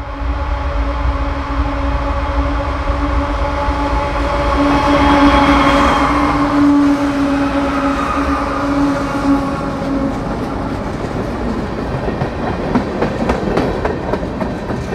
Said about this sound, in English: the locomotives, which are in dynamic braking as the train nears the base of the Clinchfield Loops